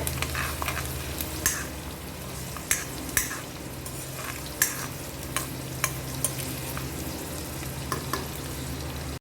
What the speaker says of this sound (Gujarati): ખાલી બ્રાઉન સ્પોટ્સ આવી જાય લસણ ઉપર ત્યાં સુધી આપણે આને રોસ્ટ કરવાનું છે